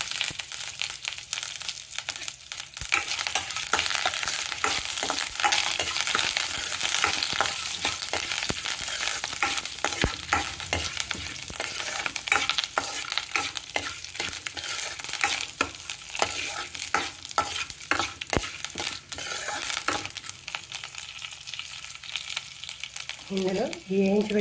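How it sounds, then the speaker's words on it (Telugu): Curry leaves fry in a pan with a dense, constant sizzle and crackle. Scraping stirs keep the sound busy throughout, close and fairly loud. "కొద్దిగా కరివేపాకు కూడా వేసుకొని"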